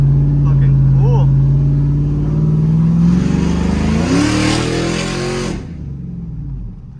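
A cammed truck engine revs hard and loud right up close, its deep roar climbing in pitch and then dropping off, while a voice speaks over it.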